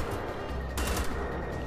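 Gunfire in Wolfenstein: The Old Blood, a dense, continuous rattle of shots with a sharper burst midway, loud and close throughout.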